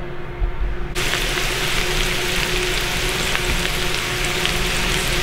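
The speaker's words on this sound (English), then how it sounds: "This fancy little copper pan, melting butter." Butter melting in a small copper pan gives off a steady, loud sizzle that flares up sharply after a quiet first second and then holds an even frying hiss with no talking.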